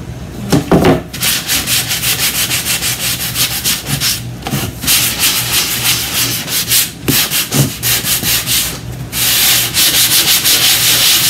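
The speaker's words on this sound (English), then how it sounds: "see how that top layer of paint is sanding away to reveal like the white underneath" Loud, close scratchy rubbing of sandpaper on painted wood, sanding off the top paint layer in long back-and-forth strokes, with brief pauses between passes.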